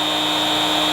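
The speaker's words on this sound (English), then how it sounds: "All right, big grinder going." Several power tools, including a large grinder, run at once on a Jackery 3000 Pro generator, making a loud, continuous high-pitched whine with a steady mechanical hum beneath.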